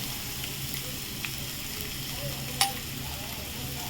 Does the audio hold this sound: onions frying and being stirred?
yes